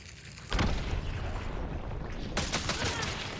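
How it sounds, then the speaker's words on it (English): An in-game grenade lands and explodes in a video game firefight, one sudden loud blast followed by rumbling debris, then a second burst of noise near the end. "and sure enough, a nade comes in."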